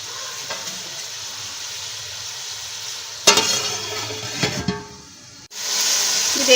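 Ginger, garlic and masala fry in a covered pan, giving a steady close sizzle and hiss. Clatter from the lid or a spoon comes midway, then a brief drop before the frying resumes louder.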